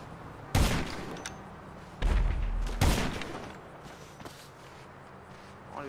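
Gunfire in GTA V Online: sharp loud bursts of shots, with a salvo early on and two more heavy volleys a couple of seconds later, then fading echoes and a few faint thuds.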